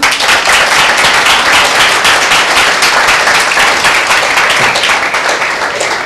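A church congregation at a Tuesday meeting claps loudly and continuously, a dense, close, sustained roar of hands with no speech over it.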